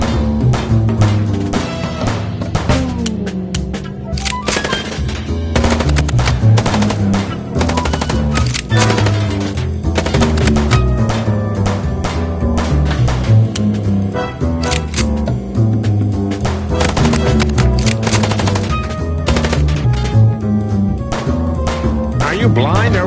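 Rapid gunfire during a car chase in the Chicken Police video game, dense bursts of shots crackling loudly over a running engine and music, with voices talking throughout.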